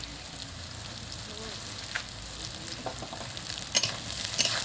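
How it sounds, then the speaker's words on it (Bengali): Onions sizzle steadily in hot oil in a pan, cooking down before a chicken curry, with a broad hiss throughout and scattered scraping clinks as they are stirred, louder near the end. "এই যে পেঁয়াজ একটু জাল হচ্ছে"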